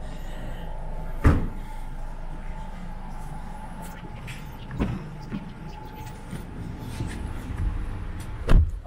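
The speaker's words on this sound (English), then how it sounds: "seats fold down" Rear seats of a 2020 Nissan Altima SR AWD folding down inside the cabin, giving three sharp thumps spaced several seconds apart over a steady low interior hum.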